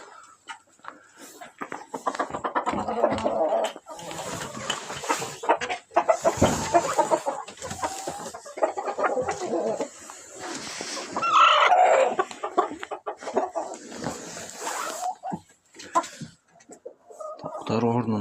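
Brahma chickens cluck and chatter in a farm coop, with scattered squawks and a brief crow-like call, moderately close, while a person talks over them now and then.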